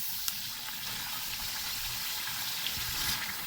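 Chicken karahi sautéing in a wok over a high flame, a steady, fairly quiet sizzle and bubbling hiss with occasional soft clicks and no talking.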